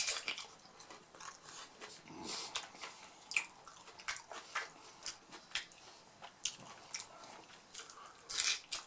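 Close, quiet bites and chewing of a crunchy taco dressed with lime, a series of crisp crackling crunches in irregular bursts, with wet chewing between.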